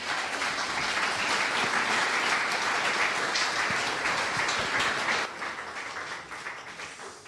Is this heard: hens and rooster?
no